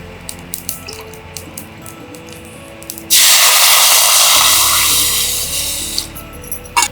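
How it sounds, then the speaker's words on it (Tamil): Water poured into a hot pan of roasted cumin seeds bursts into a loud, sudden sizzle that hisses strongly for about three seconds and then fades, after a few quiet clinks. "சீரகம் வறுபட்டதும் நம்ம கொஞ்சம் தண்ணி விட்டுக்கலாம்."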